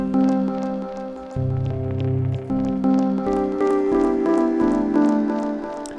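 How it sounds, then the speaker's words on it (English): A Japanese vinyl record sample plays pitched below its original key through a simple filter, from the end of the record. Sustained tonal chords shift in steady blocks while faint crackle and ticks ride on top. "there's a little bit of vinyl crackle in the sample"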